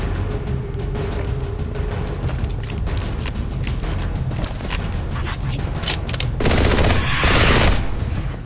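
Rapid SMG gunfire in the Halo CE SPV3 mod, dense continuous bursts filling the whole stretch with sharp repeated cracks, growing louder and harsher near the end amid other combat noise.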